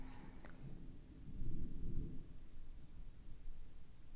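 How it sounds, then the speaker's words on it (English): Faint low thunder rolls and rumbles in the distance for several seconds, a quiet swelling growl with a brief crackle near the start and no voices. "It just started thundering."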